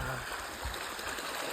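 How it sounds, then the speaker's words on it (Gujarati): Water flows steadily at a farm, a constant rushing murmur with one dull low thump partway through. A faint voice may be present in the background. "આ જો પાણી હાલે"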